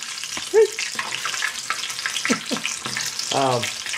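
Hush puppies frying in hot grease, a steady broadband sizzle with bubbling bursts throughout, with short voiced sounds and a brief tonal squeak near the start.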